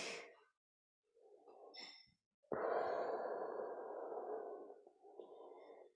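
Deep, audible breaths from a person doing low yoga lunges, a shorter breath followed by a long, strong exhale-like rush lasting several seconds, then a softer breath at the end, close and alone with no talk.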